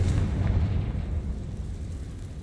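A Confringo spell explosion in Hogwarts Legacy rumbles as a deep, sustained blast, heavy and low, fading gradually with no talk over it.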